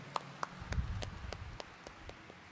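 Scattered, sharp hand claps from a church congregation at Quiapo Church during a Saturday morning Mass, about eight distinct claps spread unevenly over a few seconds, fairly faint against a low hum of the hall.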